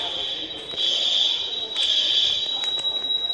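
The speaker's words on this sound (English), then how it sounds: "I'm going around the school to make sure all the alarms are working and stuff." A school fire alarm blares continuously during a fire drill, a steady, piercing electronic tone with faint rhythmic pulsing, loud and close throughout with some background noise.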